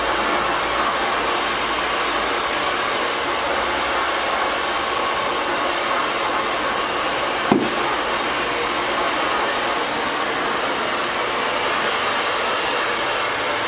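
A hair dryer blowing steadily while hair is blow-dried, a loud continuous close whoosh with one brief click or bump midway and no talk.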